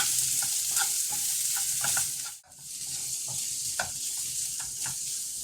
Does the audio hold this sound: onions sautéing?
yes